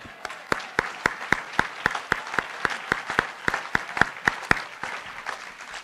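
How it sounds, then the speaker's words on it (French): A church congregation claps in steady unison, crisp evenly spaced beats repeating quickly and loudly throughout, with no voices over the rhythm. "On acclame le Seigneur."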